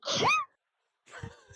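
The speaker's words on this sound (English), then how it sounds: "I'm told that I sound like a mouse when I sneeze" A single short, high-pitched sneeze with a squeaky rising tone, followed by a soft breath or faint vocal sound after a brief silence.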